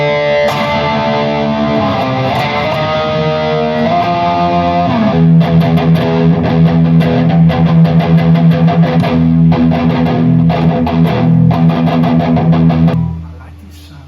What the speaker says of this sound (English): I'm taking this overdrive and I'm putting the distortion on it.